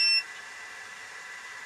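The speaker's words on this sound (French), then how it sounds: "Ah ouais, il y a un bip là." Short high electronic beep from an Arrma RC car, ending about a fifth of a second in, followed by a faint steady whine.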